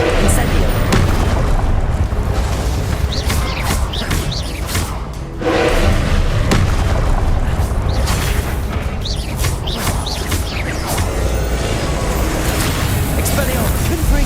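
Confringo blasts in Hogwarts Legacy go off as repeated booming explosions with whooshing bursts, a dense, loud stream of spell-fire and impacts running continuously with one brief dip.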